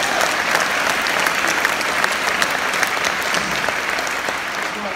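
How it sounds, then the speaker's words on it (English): A hall audience at a DAR event breaks into steady applause, a dense wash of many hands clapping at even volume throughout, with occasional sharper claps standing out. "Let's give them a round of applause"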